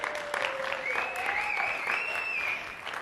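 A conference audience at a developer community event applauds steadily for a presenter, a moderate wash of claps with faint whoops or whistles rising above, heard from a distance and fairly quiet.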